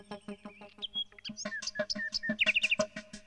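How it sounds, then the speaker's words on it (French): A swallow hunting on the wing for its chicks gives a quick run of bright chirps and twittering trills, close and clear, rising to a rapid burst of high notes near the end. "L'hirondelle chasse en vol toute la journée pour nourrir ses oisillons."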